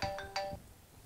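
A phone's ringtone for an incoming call chimes in two quick bright tones, then fades out into quiet. No one talks over it.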